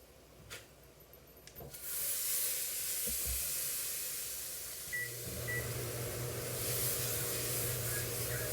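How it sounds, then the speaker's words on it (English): Butter melting in a pot for spaghetti gives a steady, bright sizzle and hiss that starts after a few soft knocks and continues evenly, with a faint beep partway through. "I'm gonna use butter to add to my pot that I'm gonna use for my spaghetti"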